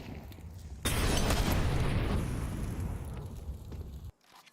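A frag grenade detonates in a professional Counter-Strike match, one loud, broad boom that bursts in abruptly and rumbles on for about three seconds before cutting off sharply.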